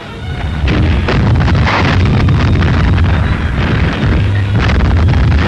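Wartime artillery guns fire in the North African desert at Sidi Rezegh, loud rolling booms and rumbling blasts merging into a continuous roar with wind noise on the microphone.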